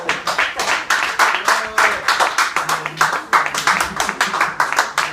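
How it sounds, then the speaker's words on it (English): A small comedy club audience claps to welcome a comedian to the stage, in an uneven patter of hand claps with a voice briefly heard underneath. "A little applause for Joe, a little."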